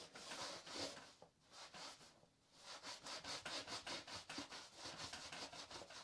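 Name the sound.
stripping wax off a surfboard with wax remover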